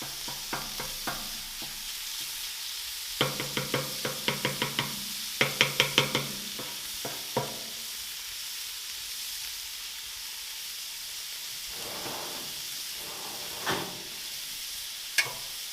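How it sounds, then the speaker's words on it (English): Ground beef frying in olive oil in a pan, a steady close sizzle with rapid scraping and tapping as a utensil breaks up the meat, bursts of stirring then calmer frying with occasional knocks. "let's get that beef all ground up"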